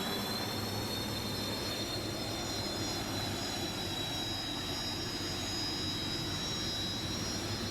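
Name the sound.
hydroplane jet turbine engine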